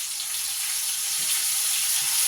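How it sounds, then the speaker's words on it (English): Breaded chicken tenders drop into hot frying grease, giving a steady, bright, hissing sizzle that holds level throughout at close range. "Pack it on there. And drop it in the grease."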